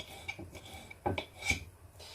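A knife cuts herring into pieces on a board while making a herring-under-a-fur-coat salad, with a few soft, scattered rasping strokes, quiet and close, with no talking.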